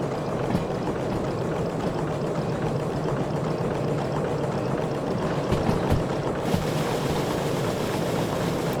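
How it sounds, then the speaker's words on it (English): Water pouring in the Derail Valley train game during a steam locomotive run, a dense, steady rushing wash that stays constant throughout, loud and close. "Thought I could hear water there."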